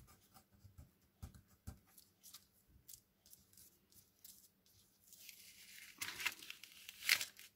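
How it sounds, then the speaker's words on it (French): Close, quiet scratchy rubbing and tapping give way to a louder ripping sound as tape is peeled off a surface, ending in a sharp tear. "je vais enlever le scotch qui est ici"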